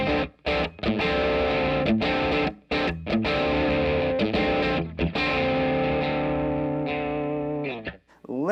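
Electric guitar played through a Fender MTG Tube Distortion pedal on the bridge pickup, loud sustained distorted chords and notes with short gaps between strums, ringing out alone without talk.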